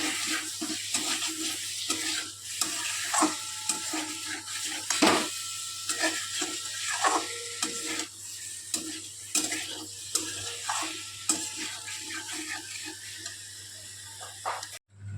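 Red amaranth stems sautéing in a pan as a spatula stirs them, giving a continuous close sizzle broken by frequent scraping strokes and clatters, with no voices.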